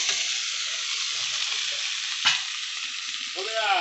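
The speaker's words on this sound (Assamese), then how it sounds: "এইখিনি মই ভালদৰে ভাজি ল'ম। তাতে মই হালধি দি দিম।" Potatoes fry with turmeric in a pan, giving a bright, even hiss of oil that stays loud and constant, broken by one sharp clack midway and a short scraping sweep near the end.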